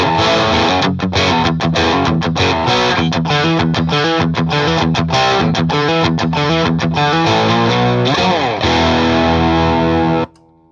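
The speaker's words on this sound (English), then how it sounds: "This is the Snakebyte without the 9-volt battery in it." LTD Snakebyte electric guitar with EMG active pickups, played without its 9-volt battery, strumming rapid chugging riffs through distortion for about ten seconds, loud and continuous before stopping abruptly.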